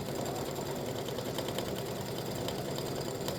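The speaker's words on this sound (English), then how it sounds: "It stitches around and around and around in circles." A sewing machine runs steadily for several seconds, stitching a vanilla ice cream design round and round in circles, a continuous close mechanical whir with no pauses.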